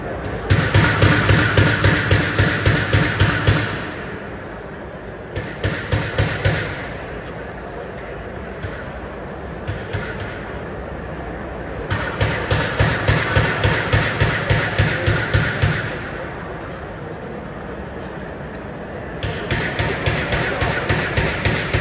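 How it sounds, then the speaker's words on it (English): Bursts of rapid, loud metallic hammering from a hammer and chisel on an Arrow SR3 security shutter ring out in several runs, separated by quieter stretches with only scattered taps and scraping. "got a hammer now, and he'll try and chisel it across"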